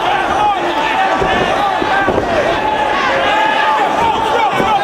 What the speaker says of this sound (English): Listen to this crowd chanting for a tap.